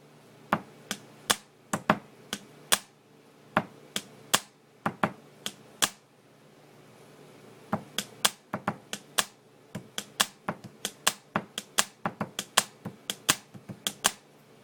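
A pen taps out a quick bass, snare and clap pattern on a hard surface, sharp close clicks in repeating bursts with a short pause midway, otherwise quiet.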